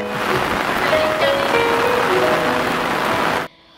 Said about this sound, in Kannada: ಮಳೆ ತುಂಬ ಜೋರಾಗಿ ಬರ್ತಾ ಇತ್ತು